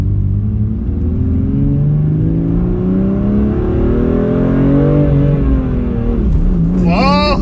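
A car passes on the road, its engine climbing in pitch as it accelerates, loud and close, with a brief rising whine at the end; a voice talks over part of it.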